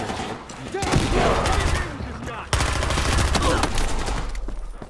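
Rapid bursts of MP5K submachine gun fire in a video game, loud and close, with dense automatic rattles broken by a short pause and then firing again.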